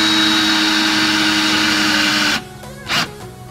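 A power drill with a countersink bit whirs steadily into wood around screw pilot holes, a loud continuous motor buzz that cuts off abruptly, followed by a brief second burst of drilling nearby.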